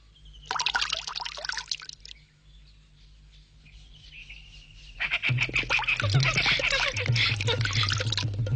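Tap water running and splashing while hands are washed, a steady broadband wash of flow that starts, pauses briefly, then returns louder and continuous.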